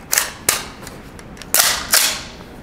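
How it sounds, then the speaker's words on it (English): Four sharp gunshots from a Q Honey Badger short-barreled rifle firing non-subsonic rounds, close and loud, in two uneven pairs with short gaps between them and no talking. "we're gonna shoot non-subsonic and then subsonic rounds back and forth"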